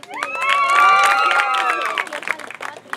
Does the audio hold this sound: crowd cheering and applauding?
yes